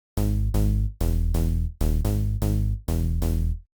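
A synth bass patch from Serum, built on a bright white noise oscillator under a plucky filter envelope, plays six short buzzy notes in a rhythmic pattern, each with a bright attack that closes quickly, alone and upfront.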